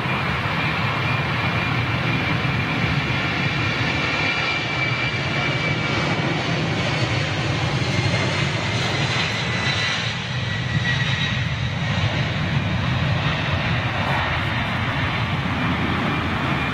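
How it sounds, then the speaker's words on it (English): A British Airways Airbus A350 taxiing out under its own power at London Heathrow hums with a steady, continuous jet-engine whine and rumble at moderate loudness. "British Airways A350 under her own steam coming out"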